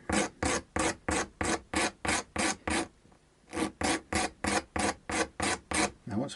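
Guitar fret ends being filed and beveled during a re-fret: a steady run of rhythmic rasping strokes, about two per second, clear and close, with one short pause midway and no talking.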